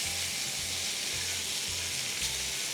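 Mushrooms sizzling in a hot pan, a steady, dense hiss that stays even and close throughout with a faint low hum underneath and no speech.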